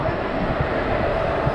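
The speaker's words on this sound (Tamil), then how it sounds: "12671 நீலகிரி சூப்பர் ஃபாஸ்ட் எக்ஸ்பிரஸ் கிளம்பியாச்சுங்க மேட்டுப்பாளையத்தை நோக்கி." The 12671 Nilgiri Superfast Express pulls out of platform 8 at Chennai Central, bound for Mettupalayam. A steady, dense rumble of rolling wheels and carriages holds close and loud throughout, with no clear speech.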